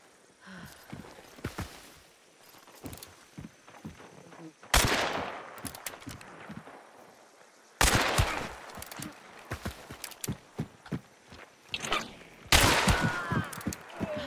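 Gunshots ring out in the video game Hunt: Showdown 1896, with several loud sharp blasts amid footsteps and clattering game sounds, and a voice speaks faintly at times.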